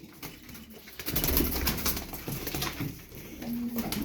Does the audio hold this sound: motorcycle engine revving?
no